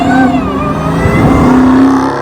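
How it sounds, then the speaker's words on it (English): A steady, loud high-pitched supercharger whine rides over the rumbling engine of a 2023 Dodge Charger Hellcat Redeye that swells briefly, continuous throughout with no talking. "That supercharger whine,"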